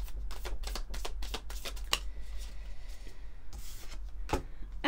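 Oracle cards are shuffled by hand close to the microphone, a quick run of crisp riffling snaps followed by softer sliding, with a few more flicks after a pause and a low steady hum underneath.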